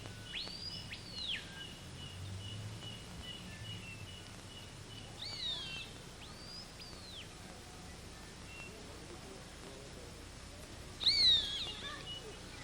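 A trumpeter bird calls in a rainforest: a few clear, whistled, arching notes spaced several seconds apart over a quiet background hum, with one louder call near the end.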